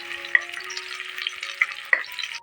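Shallots and coconut sauté in hot oil for mutton biryani, giving a close, continuous sizzling hiss with a few small pops and crackles.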